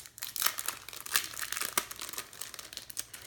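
A little paper gift bag holding memory dex cards is opened, giving close, continuous crinkling and rustling with a few sharper crackles, heard alone without talk.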